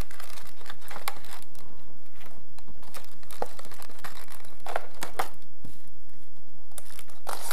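An aluminum scope mount comes out of its packaging with close, continuous crinkling and rustling of plastic and paper, broken by sharper crackles and tearing.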